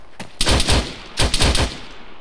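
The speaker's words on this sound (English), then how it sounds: "Oh shit, I see it. It's a Dishka." Two bursts of rapid heavy-calibre fire from a DShK machine gun in the military game Arma 3, loud and close, each a rattling string of punchy shots separated by a short pause.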